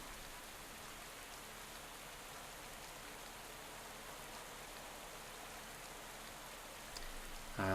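Steady rain hisses throughout during a time trial in the video game Pro Cycling Manager 2017, a soft, even wash of falling water with no voices.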